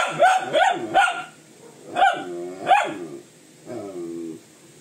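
Lashy the dog barks in a tantrum, a loud, close string of whiny, yowling barks and grumbles in uneven bursts, ending in a drawn-out complaining howl, with no talking.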